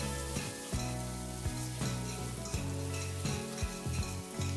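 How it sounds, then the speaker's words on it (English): Mustard seeds and crushed garlic sauteing in hot ghee, with a steady close sizzle broken by repeated sharp popping crackles at an even rhythm, no voices. "For the curry, in some ghee, I'll add mustard seeds and crushed garlic"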